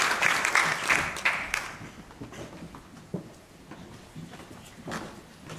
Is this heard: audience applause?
yes